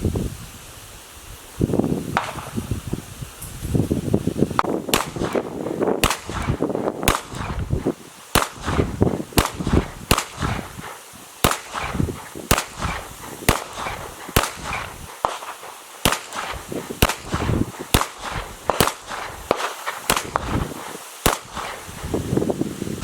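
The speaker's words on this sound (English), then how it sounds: "Next on that same target will be headshots." A Canik TP9SF pistol fires at a silhouette target outdoors, about twenty sharp shots in loose, uneven bursts with short pauses between them and no talk.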